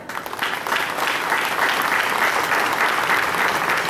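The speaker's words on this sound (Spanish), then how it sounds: "recibámosla con fuertes aplausos" Audience applause at a civic ceremony in Papantla welcoming a municipal official, a steady dense wash of clapping that swells after the first half-second and holds evenly loud throughout.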